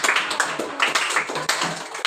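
Audience clapping for two quiz participants in a Marathi classroom-style session, a brisk patter of hand claps rising and falling in quick bursts, close and fairly loud, with no talk over it.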